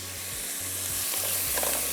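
Chicken frying with garlic over high heat, a bright, steady sizzle close by with faint stirring, over a low repeating hum, and no talk.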